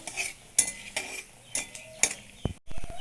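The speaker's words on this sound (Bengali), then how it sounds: "সরিষার তেল দিয়ে দেবো, সামান্য মৌরি দিয়ে দেবো, তেজপাতা, শুকনো লঙ্কা দুটো ভালো করে নাড়াচাড়া করে নেবো।" Fennel seeds, a bay leaf and two dried chilies are stirred in hot mustard oil for a jujube pickle: a soft background sizzle broken by several sharp metal spoon clinks and scrapes against the pan, close and uneven in rhythm.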